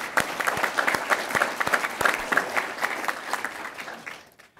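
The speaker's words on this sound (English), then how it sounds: "Give them a round of applause." An audience applauds cadets of the Illinois National Guard's Lincoln's ChalleNGe Academy, a moderate crowd's clapping with distinct individual claps standing out, tapering off and fading to near silence at the end.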